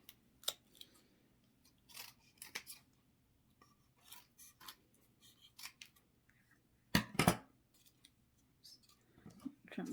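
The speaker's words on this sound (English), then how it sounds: "I'm just going to use the scissors. I'm just going to trim off" Scissors snip in short, irregular cuts, trimming decoupage on a wooden cross, close and quiet, with small rustles and scraping between the clips and one louder burst of cutting.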